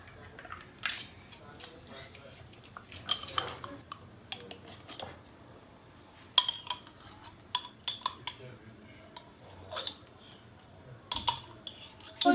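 A metal spoon clinks and taps against bowls and dishes while yogurt cake batter is prepared, with scattered sharp clicks and clatters in irregular bursts, fairly close, over quiet room tone.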